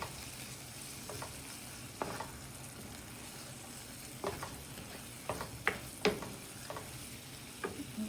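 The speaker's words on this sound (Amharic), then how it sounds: "እዚህ ጋር ቲማቲሙ ሽንኩርቱ ጥብስ እያለልኝ ነው" Tomatoes and onions fry in a pan with a steady, fairly quiet sizzle, broken by scattered pops and a few sharp clicks as they are stirred; no one speaks.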